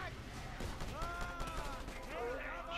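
Gunfire from the video game Just Cause 2, a dense run of shots and bursts blending into steady chaotic combat noise, with someone talking over it throughout.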